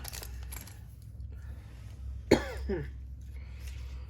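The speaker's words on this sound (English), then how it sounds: "I didn't start coughing until I started talking" A single sharp cough near 2.3 seconds, followed by a smaller throat-clearing sound, against a quiet low hum with no talking.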